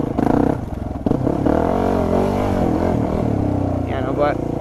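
A motorcycle ridden hard, motocross-style, around a muddy pit, its engine droning and revving close by while someone talks over it.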